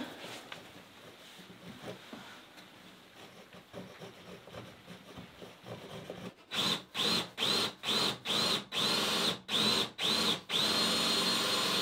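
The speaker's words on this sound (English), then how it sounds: "you're going to have to drill the hole because I'm touching the roof there" A power drill bores a hole for a wood stove pipe through an off-grid bunkie cabin wall near the roof, quiet rustling first, then a run of about ten loud, close, evenly spaced whirring bursts.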